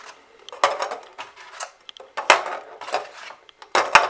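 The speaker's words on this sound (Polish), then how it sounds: "Wkładamy nasze jajka do tego garnka." A run of light clinks and knocks as several eggs are set into a pot, one after another, close by with no talking.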